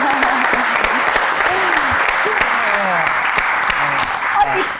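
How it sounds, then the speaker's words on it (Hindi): Applause from a studio audience at a talk show, dense steady clapping that fills the whole stretch with voices talking over it. "तालियां।"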